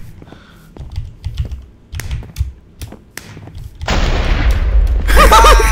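A loud, booming Minecraft TNT blast erupts partway through, followed by a sustained roar of noise, after a stretch of sharp keyboard-like taps and clicks.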